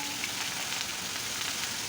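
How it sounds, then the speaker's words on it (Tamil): Chopped green chillies fry in hot oil for a tamarind chilli pachadi, giving a steady, close crackling sizzle throughout with no voices. "பச்சை மிளகா, அதையும் இதில் எண்ணெயில் போட்டு பொரிச்சுக்கலாம்"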